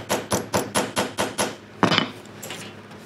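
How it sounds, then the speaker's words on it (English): A hammer pounds rivets down on a leather rope bag: a rapid series of about seven close, even taps, then a few louder, more spaced strikes. "Just kind of pound that down a little bit with a hammer."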